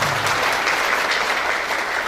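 An audience at a large Islamic Khataman Akbar gathering applauds, a dense, even wash of many hands clapping together without pause.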